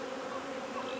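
Honeybees buzz at a beehive, a dense continuous drone from many insects close by, steady and unbroken.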